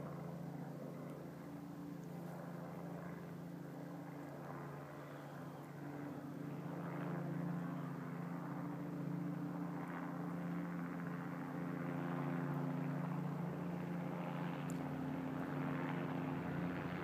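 A Rocky Mountain Rescue helicopter passes over a canyon, heard as a faint, distant, steady rotor and engine drone that swells slightly toward the end.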